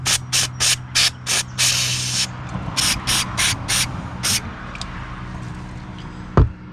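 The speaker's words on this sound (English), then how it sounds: "hit with a little carb cleaner," Carb cleaner is sprayed from an aerosol can onto the end of a Harley Davidson choke cable in short, sharp hissing bursts, about ten quick spurts in an irregular rhythm, close by, then a faint clunk.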